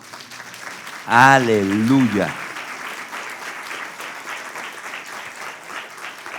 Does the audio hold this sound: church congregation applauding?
yes